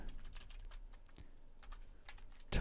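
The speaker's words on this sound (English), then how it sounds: "Alright, it's time to type it." Someone types romanized Japanese on a computer keyboard in quick, uneven bursts of close, crisp clicks, with a louder final keystroke and no voice.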